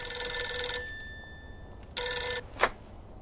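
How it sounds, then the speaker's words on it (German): Telephone ringing inside the Mafia 2 video game, set in 1951: two electronic rings with a pause between them, then a short click, clear and alone. "gehe ans Telefon."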